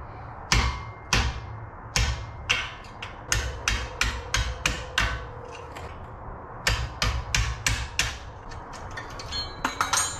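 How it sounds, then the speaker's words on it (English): Steel hammer striking a punch to drive out the pins holding a brake caliper on a Honda Civic Type R, loud sharp metallic taps in quick bursts with short pauses, close up and without talk. "It makes things a lot easier if you have a punch like we do to remove the pins holding this in."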